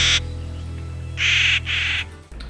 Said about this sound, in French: Clark's Nutcracker.